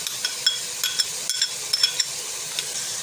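Minced meat frying in a pan for keema matar, giving a steady bright sizzle broken by quick scraping stirs and small clicks of the spoon.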